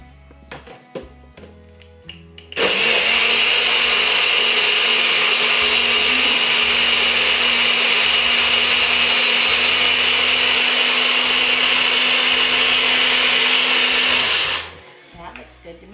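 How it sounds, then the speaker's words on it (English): A kitchen blender whirs salsa verde for about twelve seconds, loud and steady with a constant motor whine, starting abruptly and cutting off cleanly, with a few kitchen noises before it. "we're going to put it on the blender for a little while till it looks nice and green"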